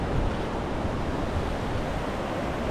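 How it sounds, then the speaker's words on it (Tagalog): River water rushes steadily near the sulfur vents of Valencia, Negros Oriental, a dense, continuous broadband wash with no pauses and no voices. "Ayan, ilog."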